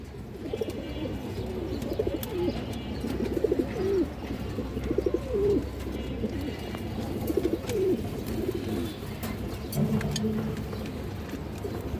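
A flock of pigeons in a loft keeps up steady, overlapping low cooing for the whole stretch, repeated rolling coos from several birds close by over constant background noise.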